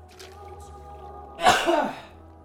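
A single sharp human sneeze bursting out after a quiet moment, close and loud, with a brief breathy tail.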